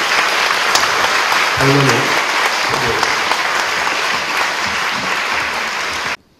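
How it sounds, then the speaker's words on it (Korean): A church congregation applauds to welcome a family at a service installing a new senior pastor, a dense, loud, sustained clapping that fills the room, with a brief voice speaking over it, then cuts off abruptly. "따뜻하게 박수로 환영하겠습니다"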